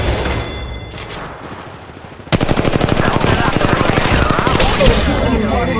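Rapid automatic weapon fire from the mobile battle royale game Apex Legends Mobile, a loud sustained burst of shots after a quieter stretch of game ambience, with faint voice callouts underneath.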